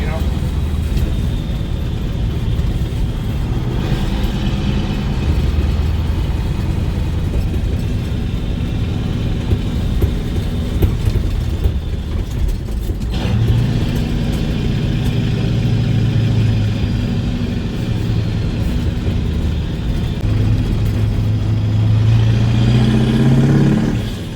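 A CAT-powered truck with a two-speed rear axle driving in high gear downgrade, a steady deep engine drone and road rumble filling the whole stretch, with someone talking over it throughout.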